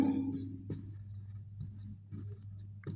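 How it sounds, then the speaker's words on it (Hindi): Pen or chalk writing notes for a Hindi-medium class 10 triangle lesson, soft intermittent scratching strokes in short bursts over a steady low hum, fairly faint and close. "तो पहले यहाँ पर हम नोट कर लेंगे। यहाँ पे लिखेंगे"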